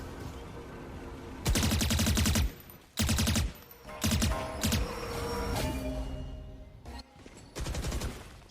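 Automatic rifle sprays in a Valorant professional match: several loud, sharp bursts of rapid gunfire separated by short pauses, with faint mechanical clicks between them.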